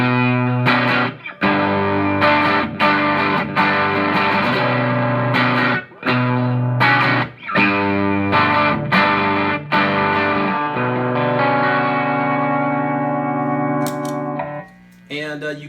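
Electric guitar through two overdrive pedals combined, both circuits of a Pelican Noise Works 50/50 Overdrive, loud, gritty chords and riffs strummed with short breaks, ending on a held, fading chord.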